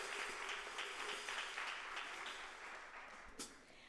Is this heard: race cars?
no